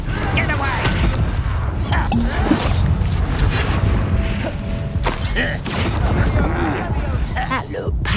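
Blasting-spell explosions in the Hogwarts Legacy video game: dense, loud battle noise of booms, crashes and mechanical clatter under voiced character shouts throughout.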